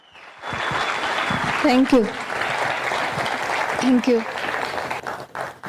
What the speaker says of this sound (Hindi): वार्म वेलकम करते हैं जोरदार तालियों से